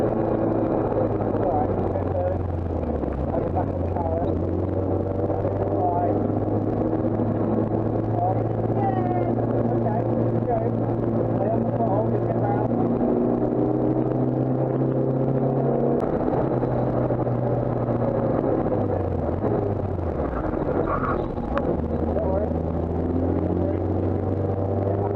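A race car lapping Croft race circuit on a track day, its engine a steady low drone that holds throughout, with shifting pitch as it accelerates and brakes, heard from inside the car at constant loudness.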